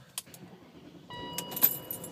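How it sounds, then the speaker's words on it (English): A BMW M5 is started inside a garage, with keys jangling first and then a short engine crank that catches into a steady idle. The sound is moderately close, and no one speaks. "Just going to start her up, turn it around in the garage."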